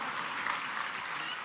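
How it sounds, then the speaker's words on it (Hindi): An audience at an award ceremony for selected UPSC candidates in Bhopal applauds briefly, a dense, fairly faint wash of clapping lasting a moment. "तालियों से स्वागत करेंगे"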